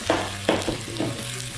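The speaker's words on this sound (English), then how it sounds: "And we're gonna get all that stirred in." A spoon stirs sugar into grilled cheese filling sizzling in a pan, giving a few short scraping strokes over a steady frying hiss.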